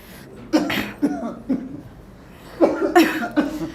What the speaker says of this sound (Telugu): రాత్రి నుంచి మా నాన్నగారికి ఒకటే దగ్గుతున్నారు